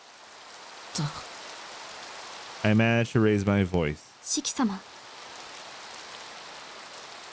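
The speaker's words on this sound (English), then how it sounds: "I can hear the sounds of rain coming from somewhere. It's a prolonged, quiet drizzle." A prolonged, quiet rain drizzle from the visual novel Tsukihime hisses softly and steadily in the background, with a voice speaking briefly over it midway.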